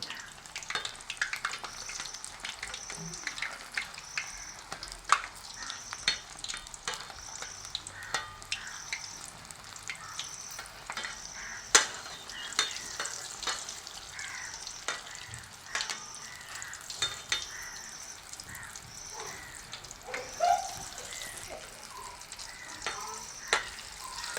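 Palm jaggery and chickpea sweet balls frying in hot oil, a steady close sizzle with frequent clicks and scrapes as the balls are turned, no talking.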